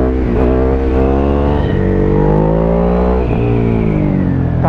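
Ducati Hypermotard 821 motorcycle engine accelerating hard, a loud, close, continuous roar whose pitch climbs and shifts through several gear changes with no talk over it.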